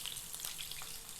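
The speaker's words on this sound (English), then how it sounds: "you've got the sizzle going on" A seasoned pastured pork shoulder sears in hot oil in a pan, giving a brief, steady crackling sizzle with fine popping throughout.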